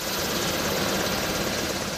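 Steady, loud rotor thrum and engine roar of a helicopter fill the clip continuously, close and unbroken, with no talking.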